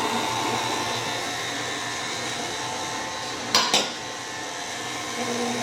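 An electric mixer whirs steadily, beating an egg into chocolate chip cookie bar batter, a constant motor hum with a brief clatter of the beaters against the bowl midway.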